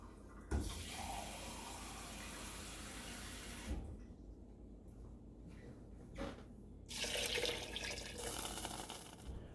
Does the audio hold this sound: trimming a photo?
no